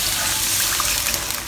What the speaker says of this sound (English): Mix, add in 1 cup of water,